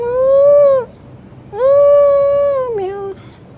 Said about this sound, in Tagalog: Ito mga pusa dito sa Kuwait.